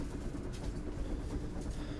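A moving train in the video game INDIKA gives a steady low rumble with faint rhythmic rail clatter, continuous and close throughout, with no talk.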